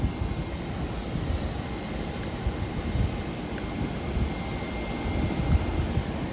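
A Jetstar jet airliner at Nagasaki Airport produces a steady, broad engine roar that holds loud and constant throughout, heard alone without talk.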